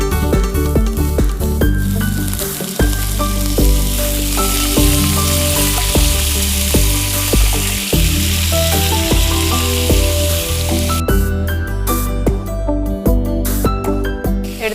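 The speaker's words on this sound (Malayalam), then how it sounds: "ഇതിലേക്ക് ഞാനൊരല്പം വിനാഗിരി ചേർക്കുകയാണ്." Vinegar hits a hot pan of frying chili sauce for fish, setting off a loud, steady sizzle that crackles continuously close up, with occasional clinks of stirring and sharper spitting near the end.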